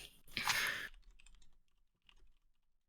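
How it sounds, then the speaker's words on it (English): Typing on a computer keyboard: a brief loud burst up front, then a sparse scatter of quieter key clicks trailing off, close and alone with no talk. "You heard me typing"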